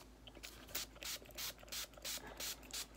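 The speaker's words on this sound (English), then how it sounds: "So this is the brush cleaner by Mary Kay." A Mary Kay makeup brush cleaner sprays in a series of about six short, close hissing bursts at a steady rhythm, with small rubbing sounds between them and no talking.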